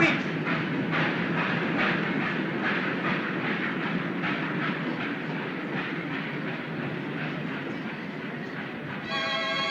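A departing train rumbles steadily with rhythmic clickety-clack of railroad cars and a constant loud, dense roar throughout, a brief tonal whistle-like note at the end.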